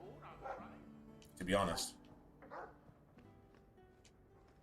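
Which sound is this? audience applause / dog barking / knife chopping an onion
dog barking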